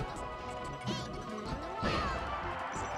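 Ice Climbers land a down smash in Super Smash Bros. Melee, producing loud crashing hit impacts twice within a couple of seconds. Bright game effects and crowd noise play in the background throughout.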